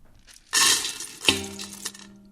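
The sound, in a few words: dried lyed white corn kernels added to a pot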